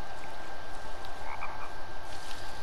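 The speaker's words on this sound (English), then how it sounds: "I hear frogs." Frogs croak near a pond in the survival game The Forest, several short chirping calls rising over a low ambient bed, moderately faint and without speech.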